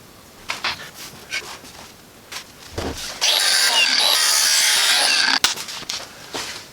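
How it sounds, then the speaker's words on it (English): A handheld power tool deburring a metal part during a Cadillac Escalade rear A/C delete, a loud steady bright whirring for about two seconds after quieter clicks and handling noises, with a sharp knock near the end. "A little bit deburring action here."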